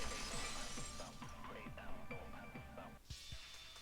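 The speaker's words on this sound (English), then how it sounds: "If it wasn't the window, then what broke to make that sound? A vase." A vase shattering in Danganronpa 2, a bright burst of breaking ceramic near the end, following a stretch of game music and chatter.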